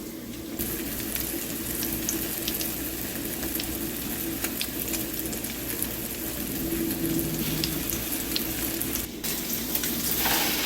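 Challah French toast slices fry in a pan with a constant, dense sizzle and crackle that holds steady at close range, with faint scattered pops and no voices.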